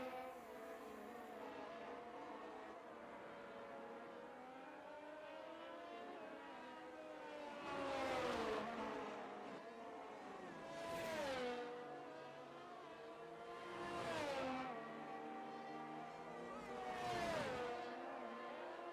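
Formula 1 cars on fast laps at the Hungaroring in the racing game F1 22, engines whining at high pitch and sweeping past in four distinct swells with rising and falling tones, moderately distant, no voices.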